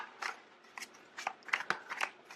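Tarot cards are handled and shuffled up close, a quiet series of quick crisp snaps and flicks in short irregular bursts, with no talking.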